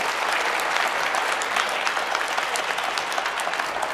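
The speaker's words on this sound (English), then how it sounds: "Can we please have a huge round of applause for them?" Steady round of applause from an audience for delegates after a session at a university event in India, dense and even for the whole stretch with no voices over it.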